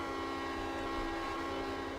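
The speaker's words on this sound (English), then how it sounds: "we are driving a train in Trainz 2!" A locomotive in the Trainz Simulator 2 railway game gives a continuous low engine rumble with a steady tonal hum, even and unbroken throughout.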